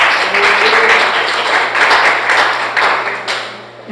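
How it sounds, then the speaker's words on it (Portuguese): A congregation at a Portuguese-language church sermon claps for the Lord Jesus, a short burst of dense applause with some voices underneath, tapering slightly toward the end. "Pode aplaudir o Senhor Jesus?"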